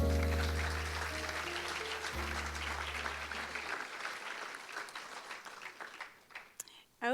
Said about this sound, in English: Ladies and gentlemen, please give these ladies another round of applause.